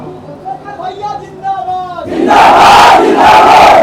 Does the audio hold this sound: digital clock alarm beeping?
no